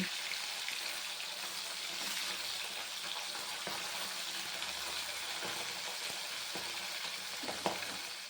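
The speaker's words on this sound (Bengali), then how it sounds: "এবার উল্টিয়ে দিয়ে আর এক পাশ ভালোভাবে ভেজে নিতে হবে" Pabda fish sizzling in hot oil in a pan while being turned over to fry the other side, a steady dense crackle throughout with a few brief clinks near the end.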